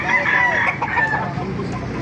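Chickens cluck and a rooster crows loudly close by, the crow rising then trailing off over steady flock chatter.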